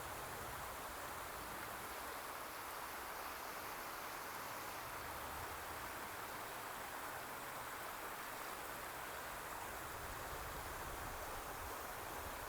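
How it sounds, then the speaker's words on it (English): A small river flowing outdoors in nature, a steady, even rush of water that stays constant and faint throughout with no voices or other sounds. "Just like this raging river right here."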